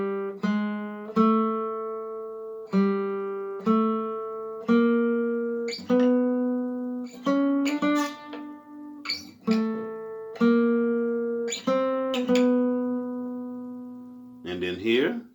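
Guitar plucked note by note through a short measure, each tone ringing and decaying before the next, including a low E2; clear, close and alone with no talk.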